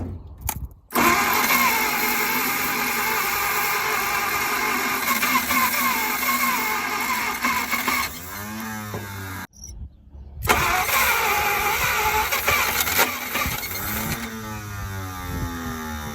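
A 1950 Packard barn-find engine, unstarted in forty years, cranks loudly on its first start attempt, a steady whirring grind that cuts off briefly and resumes before falling away, close and alone.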